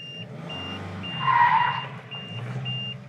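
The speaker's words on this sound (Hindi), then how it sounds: "अभी मैंने क्लच दबा रखा है और ब्रेक छोड़ दी है ऐसे करके तो गाड़ी पीछे जा रही है लेकिन मैं अगर थ्रोटल देता हूँ तेज़" Mahindra Scorpio Classic S11 SUV engine, about 130 bhp, revved hard while reversing with the clutch pressed, a close mid-loud roar swelling in the middle and then easing, with a steady beeping tone running throughout.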